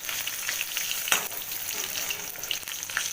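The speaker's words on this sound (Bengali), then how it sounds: "এবার যেই পটলগুলো ভাজা হয়ে যাচ্ছে আমি তুলে ফেলছি" Pointed gourd pieces sizzle briskly in hot oil, a close, even crackle with a sharp utensil clack near the middle and a few light scrapes as pieces are lifted out, without speech.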